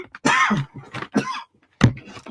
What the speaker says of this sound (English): Got a bit of a dodgy cough.